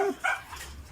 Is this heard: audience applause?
no